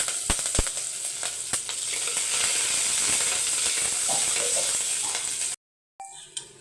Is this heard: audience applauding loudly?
no